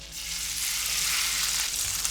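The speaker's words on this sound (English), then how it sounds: "Nice little sizzle." Spiny lobster pieces hit hot butter and oil in a pan, giving a close, loud, continuous sizzle that swells within the first moments and holds steady.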